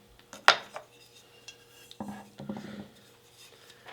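A utensil stirring vegetarian mushroom rice in a pot gives a sharp metallic clink, then soft scrapes and a few quieter clatters, close and fairly faint, with no voices.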